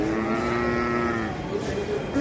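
A man vocally imitates a cow's moo, one long, sustained, lowing call held close and loud, then tailing off with a slight rise at the end.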